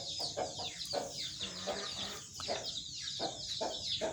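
Chickens cluck and chatter inside a damp poultry farm, a dense, moderately faint flock with repeated overlapping calls throughout.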